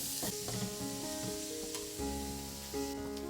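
Ground spices with Kashmiri red chilli sizzle in a pan over a low gas flame for a tinde sabzi, a steady close hiss with a soft tonal hum beneath and no voices.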